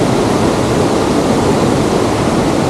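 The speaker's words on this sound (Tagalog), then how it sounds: "Waterfall." The Mahincha Waterfall in Mayoyao, Ifugao, a layered three-tier fall, gives a constant, full roar of rushing water, close and unbroken throughout.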